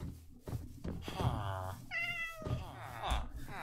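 A cat in the Minecraft video game meows a few times, with rising and falling tonal cries under quiet game sounds and light thumps, fairly close and clear.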